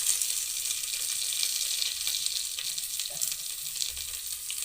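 A large onion sautés in an oiled pan with curry leaves and dried red chillies, giving a steady, close hiss of frying with occasional faint stirring scrapes.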